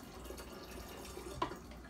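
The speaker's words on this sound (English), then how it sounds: "now we're gonna pour in the cup of kombucha" Kombucha pours into a jar in a soft, steady liquid stream, quiet and close, with a small splash near the end and no talk.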